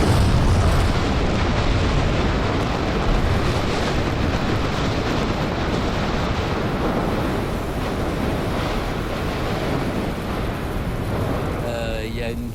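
Rumbling roar from a volcanic crater in Vanuatu, a dense, steady wall of low blasting and wind-buffeted noise that holds loud for the whole stretch, with faint voices underneath.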